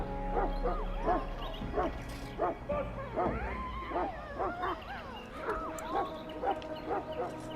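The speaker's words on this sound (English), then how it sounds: "I fear your hound has the kitchens in uproar once again" A Mabari war hound in the Dragon Age: Origins video game barks repeatedly in a steady run of loud, close yaps and yips over a low background rumble.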